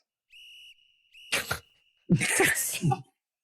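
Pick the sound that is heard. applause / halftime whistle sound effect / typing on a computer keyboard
halftime whistle sound effect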